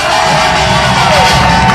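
A large crowd at a street protest rally near a subway station roars with loud cheering, shouts and clapping, a dense, close wall of noise with no pause.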